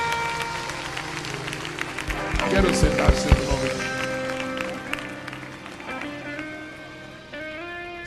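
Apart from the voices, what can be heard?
church congregation applauding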